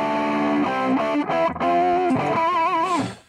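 A distorted electric guitar runs through a 5150 amp simulation modeled on a 5150 PV with an Eddie Van Halen 4x12 cabinet in BandLab, giving a short, loud, saturated lead phrase with sustained bent and vibrato notes.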